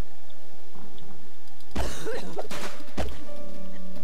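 A woman in the video game Dead Island coughs in two rough, harsh bursts a second or so apart, close and fairly loud against a quiet game backdrop.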